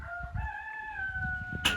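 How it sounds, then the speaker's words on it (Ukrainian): A rooster crows once in a long, drawn-out call at moderate distance, ending with a brief sharp noise over faint background sounds. "Ну це півень, це не курка."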